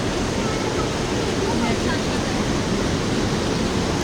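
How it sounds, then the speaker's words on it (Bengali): Kempty Falls in Mussoorie, water pouring down the cascade, makes a steady, close, continuous rushing roar that stays even from start to finish. "আর এই জলটাই কিন্তু এখানে দেখো নিচে পড়ছে, একদম পরিষ্কার জল।"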